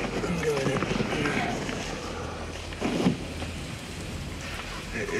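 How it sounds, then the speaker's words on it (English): Heavy rain pours down outdoors in a steady, dense hiss, with a brief louder burst partway through. "It is hammering it down now."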